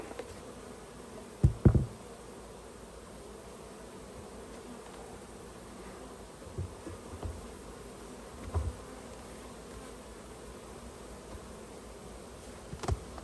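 Honeybees in a swarm trap give off a faint, steady buzz, with a few soft knocks and rustles now and then and no voices over the low hum.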